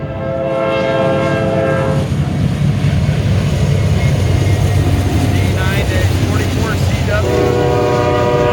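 A D9-44CW locomotive leads a westbound train along the lakefront line at Oak Harbor, sounding loud, close horn blasts over the heavy rumble of the passing train, with the horn returning near the end.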